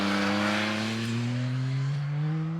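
A Yamaha MT-09 SP motorcycle engine revs up hard and accelerates, its pitch climbing smoothly through a loud, close, sustained run with no talking.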